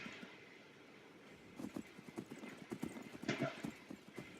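Horse hooves clip-clop in a video game, a soft run of irregular hoof beats that starts after a quiet opening and then keeps a quick, uneven rhythm.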